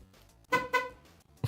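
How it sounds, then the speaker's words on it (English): A car horn from a stream avatar's little car beeps in two short, loud bursts, with quieter tones between and after them and no voices. "That was a beep beep. That was the car in there."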